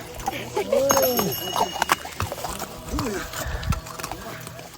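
Horses plod along with scattered hoof clops amid a busy outdoor scene on the high-altitude Mount Kailash kora trail in Tibet, people talking over them and a brief animal call or two.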